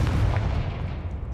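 A spell cast in Hogwarts Legacy lands as a deep, booming blast, loud and close, with a heavy low rumble that carries through the whole moment before fading slightly.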